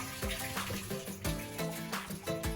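Water is poured into an orchid pot, giving a soft, steady splashing and trickling sound over background music, with repeated gentle surges as the flow continues.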